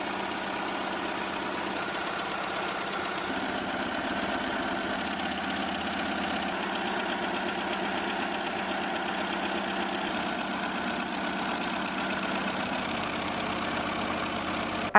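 A computerized embroidery machine stitches a satin-stitch pass on a keepsake onesie, a steady close mechanical whir with a fast regular needle rhythm holding even throughout, with no talking.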